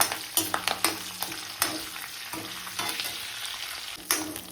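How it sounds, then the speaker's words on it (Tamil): Pepper, curry leaves and green chili fry in hot oil for a Chennai-style brinjal side dish, a steady close sizzle broken by repeated stirring scrapes and clatters, with no voices. "மிளகு கூடவே பச்சை மிளகாய் போட்டு"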